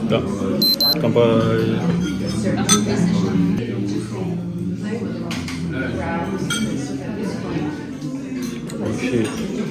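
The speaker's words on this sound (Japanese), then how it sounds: "乾杯" Wine glasses of sparkling pétillant clink together in a toast at a restaurant in a French village, a bright chime early on with a few lighter taps after, beneath relaxed conversation.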